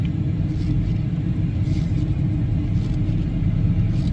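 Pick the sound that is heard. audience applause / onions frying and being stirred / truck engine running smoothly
truck engine running smoothly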